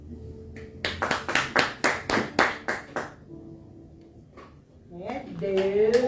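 A church congregation claps in praise after a blessing during a sermon service, a burst of about ten loud, closely spaced claps lasting a couple of seconds before fading, followed by speech from the preacher.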